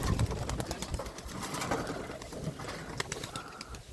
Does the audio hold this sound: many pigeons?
yes